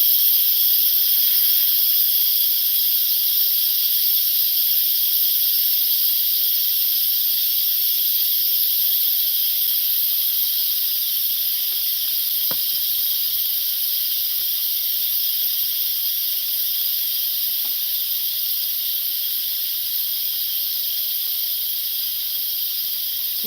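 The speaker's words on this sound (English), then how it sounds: "okay, so I'm gonna put it to vent. You see the steam coming out?" Steam vents steadily from a pressure cooker of oxtail, a continuous high hiss holding near-constant loudness for the whole stretch, broken only by a single faint click partway through.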